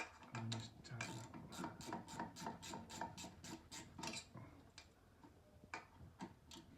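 Stairlift rail racking joiner on a Stannah 600 straight stairlift being tightened, a rapid run of close ratcheting clicks in a steady rhythm that slows and grows fainter toward the end.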